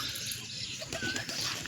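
Pigeons cooing softly nearby, a few low, brief coos over a faint background hum.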